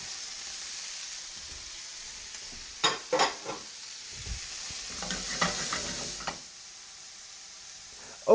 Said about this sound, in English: we're going to cook this down until the onions are nice and opaque